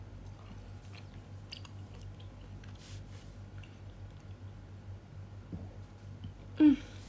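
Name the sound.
chewing food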